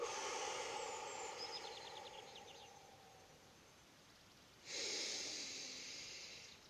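Slow breathing during a sunny outdoor morning warm-up of muscle, joint and breathing exercises: a breathy inhale fades over several seconds, then a louder, steady exhale of rushing air follows near the end.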